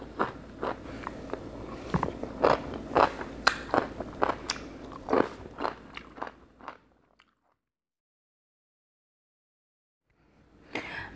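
Crisp bites and chewing of spicy papaya salad with fermented fish, a run of close, sharp crunches for several seconds, then a long silence before the crunching resumes.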